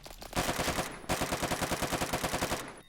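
Rapid automatic gunfire in Roblox Phantom Forces, a brief opening shot followed after a short pause by a fast, even burst of loud, closely spaced shots lasting over a second.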